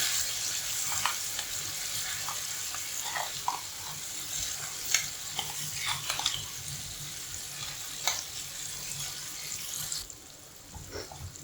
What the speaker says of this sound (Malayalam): നന്നായിട്ടൊന്ന് ഇളക്കി മിക്സ് ചെയ്ത് രണ്ട് മിനിറ്റ് തന്നെയിലൊന്ന് നന്നായിട്ടൊന്ന് വഴറ്റി